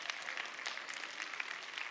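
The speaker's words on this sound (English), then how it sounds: "okay, we can clap for that." Congregation clapping during a church sermon, a soft, distant patter of many hands that holds steady for a couple of seconds.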